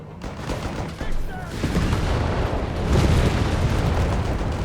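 Dense, sustained barrage of artillery and gunfire rumbling through a Company of Heroes 3 battle, a continuous loud wash of booms with no clear gaps, growing heavier toward the end, with a voice talking over it.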